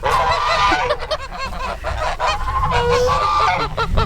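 A flock of geese honks loudly and continuously in a backyard poultry yard where chickens are being fed, with overlapping calls from several birds close by.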